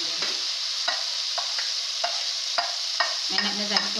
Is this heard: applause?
no